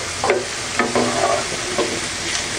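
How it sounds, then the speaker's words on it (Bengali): Onions fry in a pan while being turned over to keep them from burning, a steady close sizzle punctuated by several scraping, clattering stirs of a spatula, and no voices. "পেঁয়াজটাকে আমি উল্টে পাল্টে দিচ্ছি যাতে করে পুড়ে না যায়"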